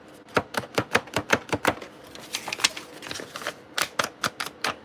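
Dense paper being handled and flexed while a paper engineer works on a Star Wars Hammerhead Corvette model, giving a run of sharp, crisp crackling snaps in quick irregular bursts, close and fairly loud, with no talking.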